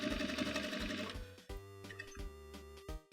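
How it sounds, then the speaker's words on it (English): A sewing machine stitches through a jeans waistband in short, rhythmic bursts of rapid needle thumps, starting and stopping several times, close and fairly quiet with a mechanical hum. "you'll just sew forward a couple of inches"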